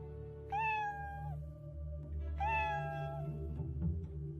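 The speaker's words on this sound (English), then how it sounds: "Meow. A sound came from Heidi's pocket." A kitten meows twice, high and plaintive, about two seconds apart, close and clear over a low background hum.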